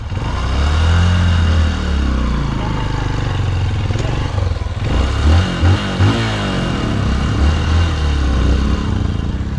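A motorcycle engine runs loud and steady at close range on a remote mountain road in Benguet, with rough low rumbling and brief revving surges; the bike is reportedly smoking.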